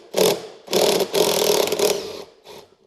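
A power tool whirs in three short bursts, close and fairly loud, while backing out T30 Torx bolts on a Polaris Sportsman 850 Touring ATV.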